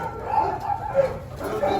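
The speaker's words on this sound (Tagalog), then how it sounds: "Tinan mo, may mga aso." Several dogs at a large old private house yip and bark in short, irregular bursts, fairly close, with some background voices around them.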